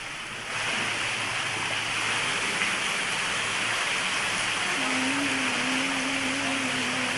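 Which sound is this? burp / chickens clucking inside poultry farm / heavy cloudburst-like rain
heavy cloudburst-like rain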